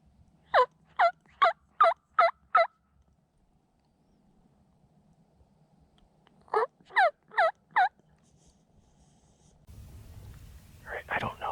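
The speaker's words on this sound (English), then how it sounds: "This turkey's gobbling real hard over here." A wild tom turkey in the woods repeats a rapid series of rattling calls, five or six notes per burst, in two bursts several seconds apart, fairly close and clear, followed by soft rustling and whispered talk.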